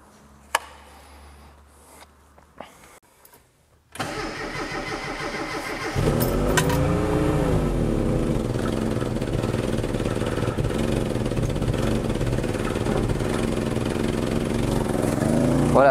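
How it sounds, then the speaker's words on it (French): A Mini with a freshly repaired cooling system: a few quiet clicks, then the starter cranks and the engine catches, settling into a steady, loud low-rev idle that runs on alone. "je la fais tourner volontairement à un régime très faible pour juste permettre d'envoyer le liquide de refroidissement dans le bloc"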